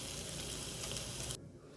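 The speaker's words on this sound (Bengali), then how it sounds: "সব দিয়ে আমি এটাকে খুব ভালো করে কষে ফিরে আসছি" Fish with chopped garlic sizzles loudly while being sautéed in a pan, a dense hiss that cuts off abruptly near the end.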